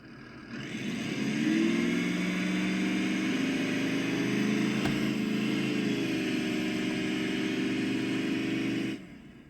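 A small car's engine idles and revs steadily, its low rumble holding loud and even for several seconds before cutting off, with no talk over it.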